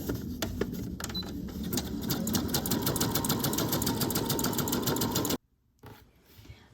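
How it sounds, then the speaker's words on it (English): A sewing machine runs a zigzag stitch along a hankie quilt border, a steady fast mechanical chatter for about five seconds that stops abruptly, followed by faint handling noise. "And now we'll change it and we'll go to the zigzag stitch."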